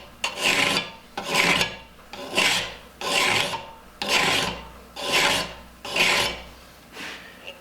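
A metal file drawn straight across the edge of a steel card scraper in eight even strokes, each a rising-and-fading rasping scrape about a second long, close and clear with short pauses between, and no talking.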